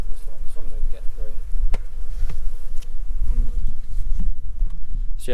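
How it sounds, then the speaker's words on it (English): A dense swarm of honeybees buzzes close by with a steady drone, a few sharp individual buzzes passing near, and a faint voice underneath. "the bees are a little bit mad because it is still a little bit cold for them"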